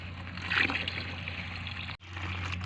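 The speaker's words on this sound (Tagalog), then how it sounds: "bubugahan ko lang ng tubig na ganyan para yung mga lupa ay tangayin ng tubig" Water trickles and splashes as it is poured onto the soil around the roots of a grape cutting in a plastic pot, a soft, fairly close stream over a low steady hum, briefly interrupted near the end.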